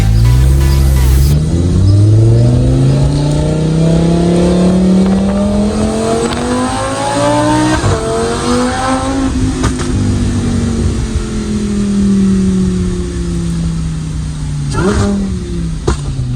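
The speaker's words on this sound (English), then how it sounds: "Those downshifts sound different now." A Lamborghini Huracan Evo fitted with an aftermarket exhaust revs hard and loud up close, the engine note climbing through gears and then dropping through crackling downshifts, with no talk over it.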